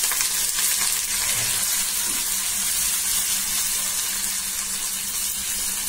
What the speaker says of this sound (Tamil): அது பொரிஞ்ச உடனே இஞ்சி பூண்டு கொஞ்சம் போடுறேன்.